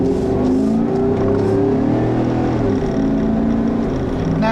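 A 2013 Chevrolet Tahoe with a 5.3-liter pushrod V8 running loud and close, a deep steady rumble with rising and falling revs and no voices over it.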